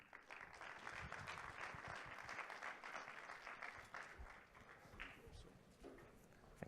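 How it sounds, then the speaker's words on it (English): A conference audience applauds a speaker as he is welcomed to the stage, a dense, steady clapping that fades toward the end and sounds quite faint and distant. "So please, round of applause for Waldemar"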